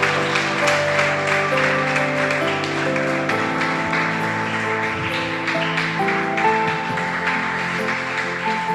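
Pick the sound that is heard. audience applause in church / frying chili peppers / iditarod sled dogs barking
audience applause in church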